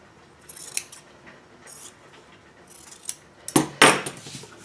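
Scissors trimming quilt fabric while squaring up a scrappy crumb quilt block: a few scattered quiet snips, then a close cluster of sharper, louder cuts near the end.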